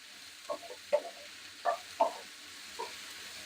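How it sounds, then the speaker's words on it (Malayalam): Onions being stirred and sautéed in a pan while making Kerala-style king fish biryani, with a soft steady sizzle and several distinct scraping stirs of a spoon, close and without speech. "നല്ലോണം വഴറ്റിട്ട്"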